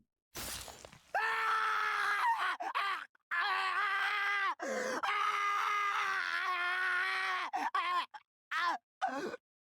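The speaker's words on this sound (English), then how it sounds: "All my blood went cold at the ear-splitting scream of agony." An agonized, ear-splitting scream from the Iwaihime horror game: loud, close wailing cries that run long and break off in several short pauses.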